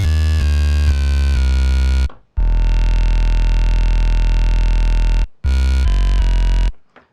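Looped sampler synth bass with extra buzz: a loud, steady, droning bass tone holding for several seconds between short stepped, rhythmic note phrases, with brief silent gaps, no voices.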